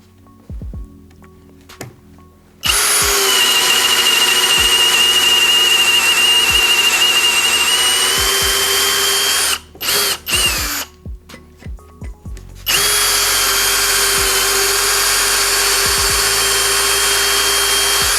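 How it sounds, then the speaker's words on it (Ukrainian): A Vitals Professional AU 1860Pbt cordless drill whirs steadily at a moderate first-gear speed, stalls and stutters briefly in the middle, then spins up again, loud and close. "Спробуємо просто на свердлінні спочатку на першій швидкості"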